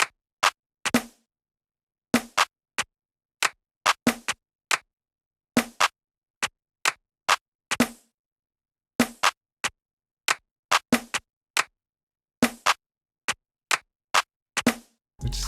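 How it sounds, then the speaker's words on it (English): A punchy XF Layer 48 layered snare sample from a producer's drum kit hits repeatedly in an irregular, off-kilter pattern, each crisp strike sharp and short with silence between, alone without other instruments. "It's called the layer snare, XF layer 48."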